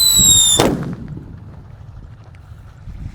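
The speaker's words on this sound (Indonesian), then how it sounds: "Yang pertama di sini ada mercon Indonesia guys. Namanya King Thunder, langsung kita nyalakan." A single sharp blast from a King Thunder Indonesian firecracker cracks loudly after a brief fizzing whistle, then fades into quiet outdoor ambience.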